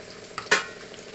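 Onions with whole green chillies and a pinch of salt frying in a pan, a soft steady sizzle broken by two scraping stirs, the second louder, close by and without talk.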